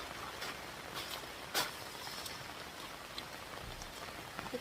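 Rain pattering down on a rainy morning, a soft continuous hiss broken by a few nearer drips and splashes, heard alone with no talking.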